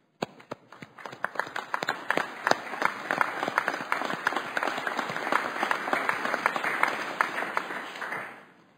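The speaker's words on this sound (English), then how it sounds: "Let the record show that there was applause." Applause fills the Senate chamber, a steady dense patter of many hands clapping for close to nine seconds before fading away, with no voices over it.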